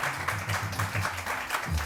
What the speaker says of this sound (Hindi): आज से बाद मोहम्मद अली के लिए तालियां बजाइए जी